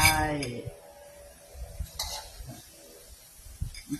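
Pork goes into a hot pan and gets stirred: a soft sizzle runs under scraping and clinking of a utensil against the pan, with light knocks scattered through the clip.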